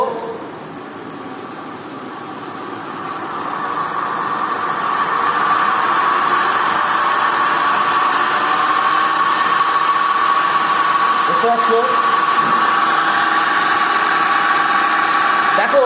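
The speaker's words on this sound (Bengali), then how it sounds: "ডিসি মোটর অলরেডি রান করছে" A thyristor/IGBT-controlled DC motor runs with a steady, continuous electrical whine and hum that swells early and then holds at an even level, with voices talking faintly over it.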